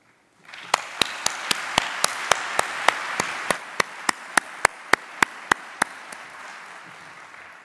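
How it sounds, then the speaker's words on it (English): An audience at a scientific conference's opening session applauds to honor Barb, sustained clapping lasting about five seconds with sharp, regular taps cutting through before it fades out. "You can clap for Barb."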